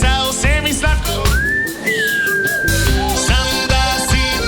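A person whistles a long sustained note that slides upward and holds, loud and close, over a dense backdrop of music and crowd noise at a live charity marathon broadcast.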